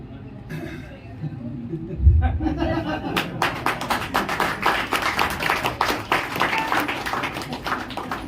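An audience at a training seminar breaks into scattered claps that build into a rhythmic burst of clapping, with talk and light chuckling mixed in at the start.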